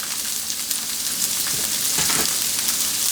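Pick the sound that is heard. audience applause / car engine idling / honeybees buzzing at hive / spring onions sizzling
spring onions sizzling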